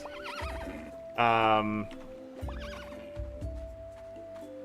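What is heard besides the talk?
horses neighing in video game Roots of Pacha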